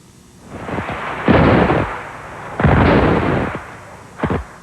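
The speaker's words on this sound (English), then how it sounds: "The sounds of heavy artillery fire reverberated throughout the streets of Sarajevo earlier despite UN demands for peace." Heavy artillery fire echoing through the streets of Sarajevo during the war, two long rolling booms and a shorter third, loud and reverberant with no voices.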